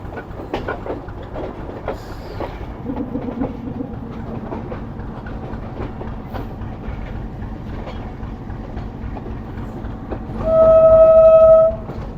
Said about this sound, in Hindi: ये ट्रेन यहाँ से ट्रैक चेंज करेगी अब।